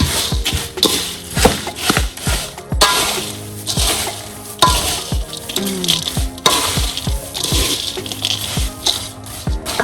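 Homemade granola mix with a few golden raisins is stirred in a bowl, giving a busy, dry shuffling and rattling of loose pieces in repeated close strokes.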